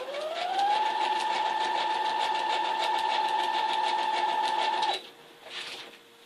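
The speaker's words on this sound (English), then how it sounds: "I'm going to take it to the sewing machine and I'm going to sew her down." A sewing machine stitching a quilt made from newspaper, a close, steady, rapid mechanical whirring with a rising electric motor whine that runs for about five seconds, then stops with a few quieter clicks.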